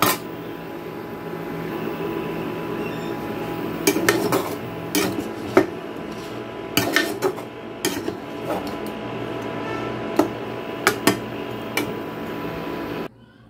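Cooked stuffing filling for a healthy rice-free, flour-free snack is moved into a pot to cool. Metal utensils and pots clatter and clink in irregular bursts over a low steady kitchen background.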